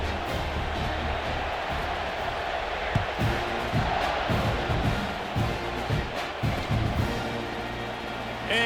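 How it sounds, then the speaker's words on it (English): Stadium crowd in EA Sports College Football 26, a steady loud roar of many voices filling the whole stretch, with rhythmic chanting swells rising through the middle. "Do you think this crowd's going to get loud when their defense comes on the field?"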